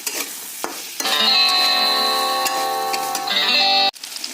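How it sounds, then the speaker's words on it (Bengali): Vegetables stirred and sizzling in a hot pan, a steady frying hiss with faint scraping clicks of a spatula running for a few seconds, then cutting off abruptly. "আমি এখন নাড়াচাড়া করবো"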